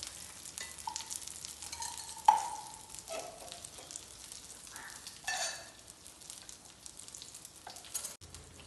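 Potato tikki patties frying in coconut oil in a pan, with a soft, faint sizzle under scattered scraping and clinking from a utensil, and one sharper knock partway through, with no voices.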